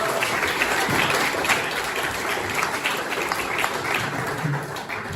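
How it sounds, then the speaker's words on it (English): Dense applause from a crowd at a company launch night fills the whole stretch, steady and fairly loud, with no voices standing out. "Round of applause."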